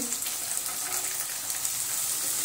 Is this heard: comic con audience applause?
no